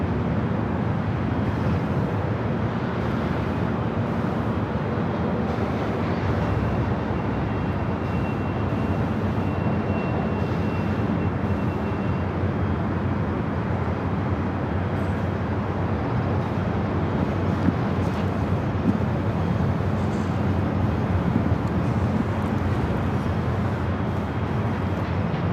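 China Airlines Airbus A350-900 taking off from LAX runway 25 Right, heard from a distance as a steady, broad jet roar that holds throughout, mixed with wind noise and open-air ambience.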